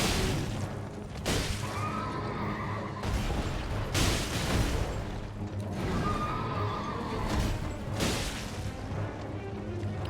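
Horse in the video game Elden Ring, with whinnying and neighing cries repeating over loud combat booms and impacts, fairly quiet in the mix.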